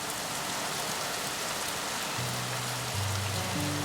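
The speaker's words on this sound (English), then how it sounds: "We have got considerable torrential rain." Torrential rain pours steadily outdoors as a dense, constant broadband hiss, close and even throughout, with a faint low hum rising in the last seconds.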